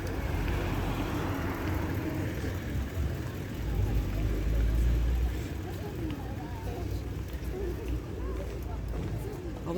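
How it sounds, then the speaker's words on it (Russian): Cars driving over a new bridge across the Volga, a steady broad roar of traffic and wind that stays loud and continuous, with voices talking beneath it. "вот машины едут, это новый мост"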